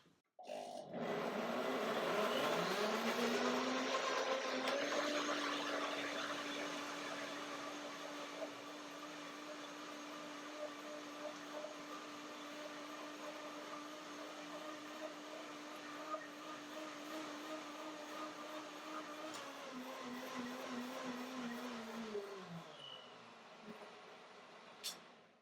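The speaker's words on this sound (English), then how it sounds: "blending yogurt and bananas is very easy." A power blender whirs steadily through a batch of yogurt and bananas, a loud sustained motor drone that spins up at the start, holds for about twenty seconds and winds down at the end.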